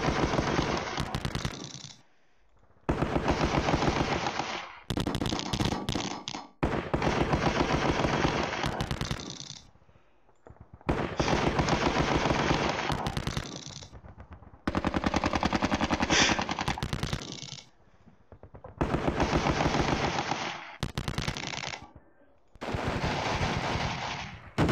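Gunfire from units in the wargame Sealion '40, with long bursts of rapid machine-gun shooting and gunshots, loud and dense, broken by short pauses between volleys.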